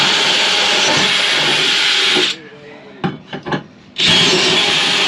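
A loud, steady grinding whir of a power drill boring through material, a brief pause with a few small knocks, then the drilling resumes.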